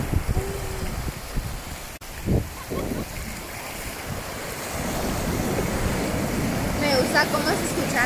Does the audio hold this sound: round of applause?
no